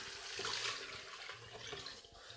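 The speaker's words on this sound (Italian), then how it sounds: "aggiungo l'acqua." Water is poured into a pan of prawn and artichoke risotto, a steady rushing splash lasting about two seconds, close and alone without talk.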